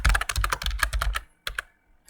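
Rapid keyboard typing on a computer during a JavaScript coding lesson: a dense, steady run of close, crisp key clicks that stops briefly and then resumes with a few final taps.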